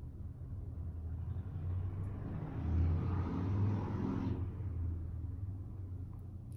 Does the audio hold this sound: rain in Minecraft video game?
no